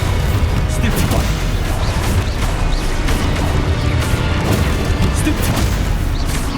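Continuous booming spell explosions and crashes in the video game Hogwarts Legacy, dense and loud, with bursts and impacts layered under a voice shouting spell names.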